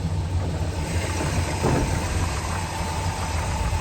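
A 1969 Plymouth Road Runner with a 383 engine and Air Grabber hood, running slightly rich, idling with a steady, loud, rumbling drone that holds even throughout, close up, with no talking.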